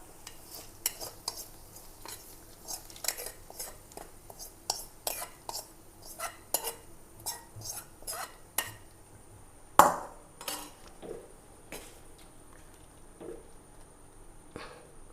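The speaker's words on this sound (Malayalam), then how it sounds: "അപ്പോൾ ഈ താളിപ്പ് നമുക്ക് കപ്പയിലേക്ക് ഇട്ട് കൊടുക്കാം കേട്ടോ" Hot tempering is added to cooked milk tapioca and stirred, giving a run of light metallic scrapes and clinks of a spoon against a pot, with one sharper clatter midway and soft sizzle beneath.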